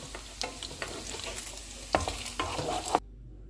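Cheese frying in hot oil for palak paneer, a close steady sizzle with a few louder scraping strokes of a spoon, cutting off abruptly near the end.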